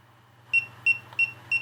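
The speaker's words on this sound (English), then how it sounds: "you're supposed to hold this power button until it beeps" FPV drone goggles emitting four short, evenly spaced electronic beeps after the power button is held, clear and close against a faint low hum.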